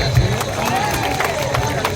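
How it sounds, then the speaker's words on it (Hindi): A club audience at a cultural program applauds, the clapping blended with crowd noise and babble, dense and close, with voices mixed through it. "प्रत्येक मेंबर को पई गोटे जोरदार करताली होगा दरकार"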